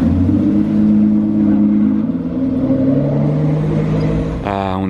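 A Bugatti Chiron 110 ans runs its engine with a loud, deep, steady rumble that shifts slightly in pitch, close by, with a rising whine near the end.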